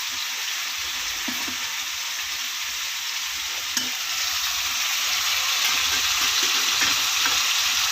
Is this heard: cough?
no